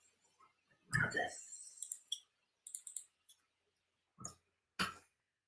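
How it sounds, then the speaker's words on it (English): Keys on a computer keyboard click in short scattered bursts during a pair-programming session on a TypeScript Slack bot, crisp and close with pauses of silence between. "I started typing things myself."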